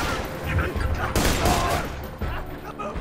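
A sniper rifle firing in Borderlands 2, a sharp loud blast with a booming tail near the middle, surrounded by game action noise and a voice talking.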